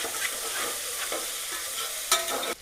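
Vegetables for palav fry and sizzle in a pan, with a steady hiss broken by repeated scraping stirs of a spoon and a sharper clink near the end; no talking.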